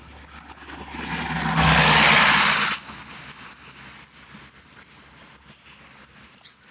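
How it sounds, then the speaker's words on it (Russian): A car approaches on a road in gusty evening wind, its broadband rush swelling to a loud peak as it passes close, then cutting off and leaving quiet background with a few faint clicks. "Когда машина стала подъезжать"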